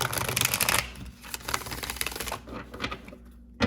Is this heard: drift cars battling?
no